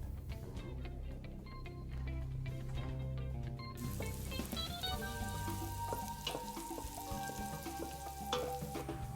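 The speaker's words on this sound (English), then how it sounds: "we're just gonna take a little bit of butter and add it into the same pot that the noodles were cooking in" Butter sizzles and crackles in a hot pot that had been used for boiling noodles, a busy continuous frying hiss with small pops and stirring clinks, close and fairly loud, with no talk.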